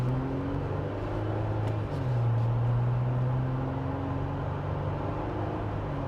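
A 2026 Jeep Wrangler Rubicon with an automatic transmission accelerates gently at quarter throttle, its engine a steady, low drone that rises slightly in pitch over a constant road and cabin rumble, close and continuous.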